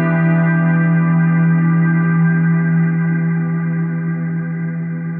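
A sustained, effected guitar tone through a Meris LVX delay pedal set to long feedback rings out steadily, its repeats blending into a long, smeared wash that fades only slightly over several seconds.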